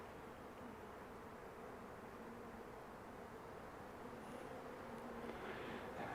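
Honeybees drone in a busy hive with pollen-laden workers, a dense, continuous buzz heard close up and steady throughout.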